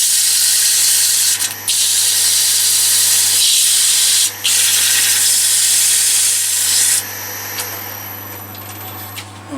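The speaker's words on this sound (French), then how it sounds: "je vais donner un tout petit coup de papier de verre" An oak pen holder being sanded with sandpaper, a loud, continuous abrasive rasping under a steady low hum, broken by two brief pauses, with no talking.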